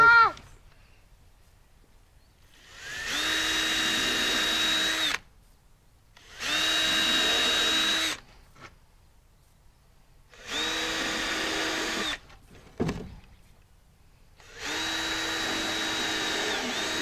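A child runs a power drill into a birdhouse in four separate whirring bursts of a few seconds each, with quiet pauses between them.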